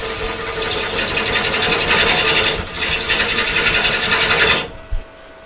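A lathe scraper makes a shear cut on a punky big leaf maple bowl, a loud continuous rasping scrape with a rhythmic pulse from the spinning wood, briefly easing midway before ending with a soft knock.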